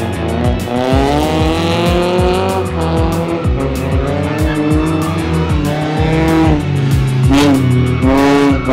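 A modified Lancer EX 2.0 races a stock car, engines roaring loud and close throughout, with repeated gear-shift pitch climbs, tire squeal and a rising rev burst near the end.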